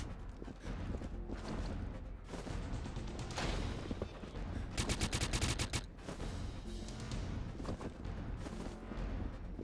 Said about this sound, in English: I think he was shooting at a teammate there.